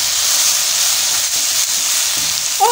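Garlic frying in a pan for a potato, greens and goat meat dish gives a loud, steady sizzle and hiss that runs unbroken from start to finish.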